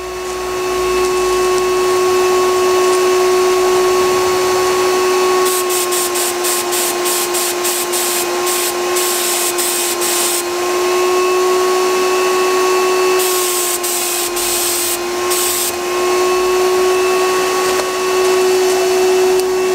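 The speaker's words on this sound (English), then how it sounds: "For that first mist coat, I'm only going to get a fine mist of paint going on" A paint spray gun hisses a fine mist of KolorBond paint onto a uPVC sample piece, a steady airy spray over a constant compressor-like tone, with short broken bursts in the middle, no talking.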